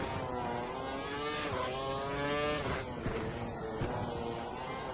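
An F1 race car engine from F1 2012 holds a loud, sustained high-pitched whine with shifting harmonics, steady and close throughout.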